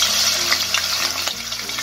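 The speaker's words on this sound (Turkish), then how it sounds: "Şu anda ciğerlerimiz kendi yağlarında pişmekteler." Chopped lamb liver fries in rendered tail fat in a pan, giving a loud, continuous crackling sizzle with bubbling spatters and a low hum underneath.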